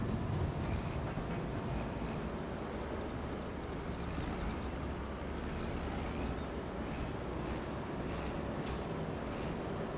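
A train in Farming Simulator 25 rumbles past as a continuous low, broadband drone, steady and fairly quiet throughout with no distinct clacks or horn, and no talk over it.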